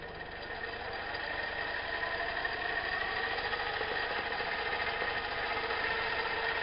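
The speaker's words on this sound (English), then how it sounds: "watch the motor here while I turn this up now" A PWM-controlled mini lathe motor runs with a steady electric whine and buzz, holding a fairly even, close drone throughout with slight rising intensity.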